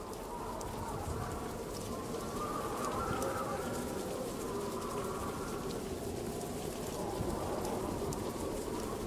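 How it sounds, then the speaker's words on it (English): Steady rain hissing across a video game level, a continuous wash at constant level for the whole stretch, with faint cooing birdlike tones woven through it and no voices. "Oh, why's it got rain?"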